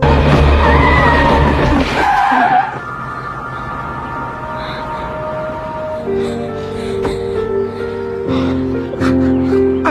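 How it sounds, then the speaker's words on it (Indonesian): A car races toward a person in a film scene, its engine roaring loud and close with a skidding rush in the opening seconds, before dramatic music takes over. "Terlihat sebuah mobil melaju kencang ke arah Annette."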